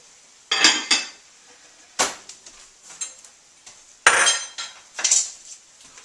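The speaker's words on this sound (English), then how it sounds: "Turn it off. Take off the lid." A metal lid lifted off a pot of thick vegetarian chili on the stove, sharp clanks and scraping clinks in several separate bursts, close and clear with quiet pauses between and no talking.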